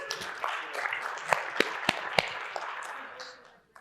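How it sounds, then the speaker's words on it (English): Participants in a standards-group meeting break into scattered applause, sparse, uneven claps with a few sharp louder ones, fairly faint and fading out toward the end. "So does the round of applause mean we have a second and a third and a fourth?"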